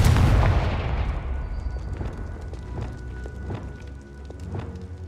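A Confringo fire spell bursts in Hogwarts Legacy with a loud, booming explosion at the start, whose roar fades into a low rumble with faint scattered thuds afterward.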